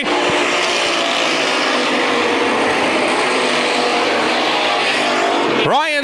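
NASCAR race cars roar around an Iowa dirt oval at Adams County Speedway, a loud, sustained engine din under a commentator's voice, ending with a rising whine as a car passes close.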